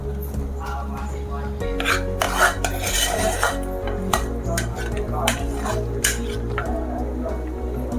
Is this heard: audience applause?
no